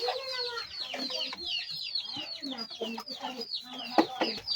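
Many chickens cluck and chatter under a house, with busy overlapping calls close by and a faint voice in the background.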